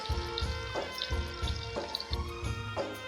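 Onion browning in a pan for chana dal khichuri, a steady sizzle broken by recurring stirring scrapes and soft clatters, close and moderately loud with no talking.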